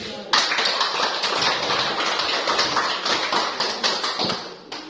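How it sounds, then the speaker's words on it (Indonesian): Classroom students break into applause for a classmate, a dense, steady wash of many hands clapping close by that starts abruptly and holds for over four seconds before cutting off. "tepuk tangan untuk temannya"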